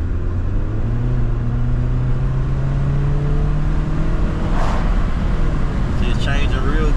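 A 1998-2002 Honda Accord engine with a shift solenoid problem revs steadily inside the cabin, its pitch climbing slowly through the gears, with someone talking over the drone.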